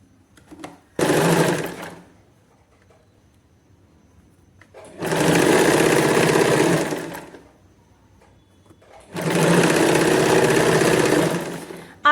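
A sewing machine stitches blouse fabric in three bursts of steady, rapid whirring, each lasting a couple of seconds and separated by quiet pauses. The sound is close and fairly loud.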